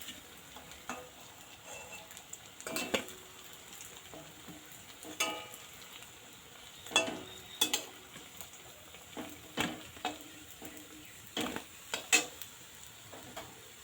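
Semolina fritters frying in oil in a pan as they are turned, with a steady soft sizzle and intermittent scraping and clinking of a utensil against the pan at irregular intervals, no talking.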